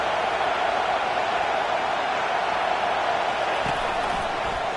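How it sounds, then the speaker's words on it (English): Stadium crowd noise in the Madden 22 football video game builds during a red zone defensive stand, a dense, steady roar of cheering and hiss that runs unbroken without commentary. "And here comes the noise. This crowd is trying to inspire this defense to make a big red zone stop."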